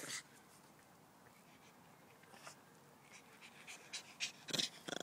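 Up close, a dog pants in quick, breathy bursts that grow louder and more agitated toward the end, agitated at another dog approaching, over a quiet background.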